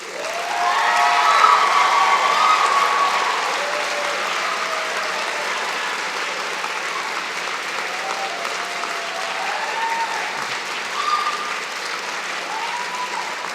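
Graduates at a spring convocation ceremony give a round of applause, a dense wash of clapping that swells at first, then settles into steady sustained clapping through to the end.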